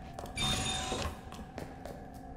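Telephone ringing in the Resident Evil 2 Remake video game, a brief bright electronic ring burst near the start over a steady game ambience, followed by faint background tones.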